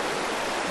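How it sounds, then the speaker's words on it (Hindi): A tall jungle waterfall pours into its pool in a steady, dense rush of water that stays even and close throughout, with no voices. "यह झरना बहुत ही ऊंचा था और उसके पानी में सूरज की किरणें पड़कर इंद्रधनुष की तरह चमकती थीं"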